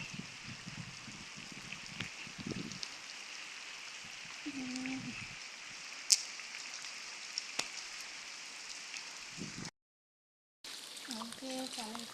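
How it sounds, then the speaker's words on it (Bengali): Rain falls steadily, a constant hiss filling the background, with a few brief voices and faint sounds beneath it and a short gap of silence near the end. "অনেকটা বৃষ্টি হচ্ছে।"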